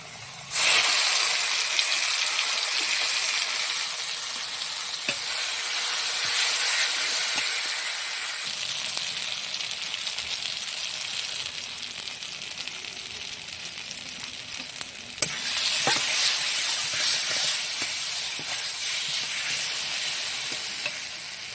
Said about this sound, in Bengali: মাছগুলো হালকা করে ভেজে নেব।